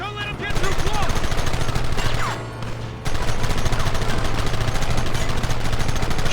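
Gunfire in the video game Red Dead Redemption: dense, continuous rapid shots crackling throughout a shootout, with a brief lull midway before the volley resumes, loud and close, with some talk mixed in.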